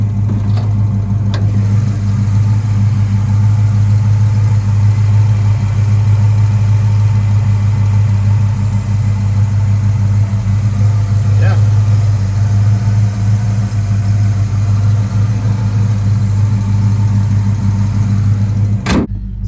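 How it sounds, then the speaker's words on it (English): A 1971 Chevy K10 farm truck with a small-block 350 V8 and a new 2 1/4-inch exhaust idles steadily up close, a deep, even rumble that runs throughout with a couple of faint clicks. "It's just a happy little small block."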